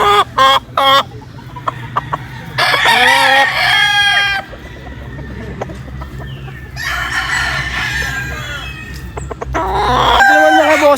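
A yellow-legged hatch gamefowl rooster on a farm crows loudly and close several times, drawn-out strident calls separated by short clucks and farmyard background noise.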